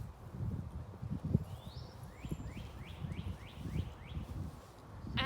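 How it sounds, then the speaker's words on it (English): Birds outside sing faintly in the distance: a short run of about seven quick, descending chirps repeats steadily over low rustling and room noise. "You can actually hear some birds outside right now."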